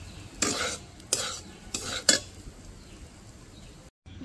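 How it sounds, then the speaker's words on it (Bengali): Semolina being stirred with fried peanuts in a pan, a utensil scraping through the mixture in four distinct sweeps close to the microphone, with no talking. "এবার ভালো করে চীনা বাদামটা দিয়ে একবার মিশিয়ে নেব।"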